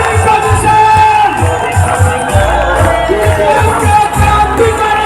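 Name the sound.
loud applause and cheering from audience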